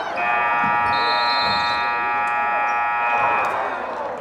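A loud, sustained electronic buzzer sounds in a school gym at the end of the first quarter of a varsity boys basketball homecoming game, holding one steady tone for several seconds over faint crowd noise.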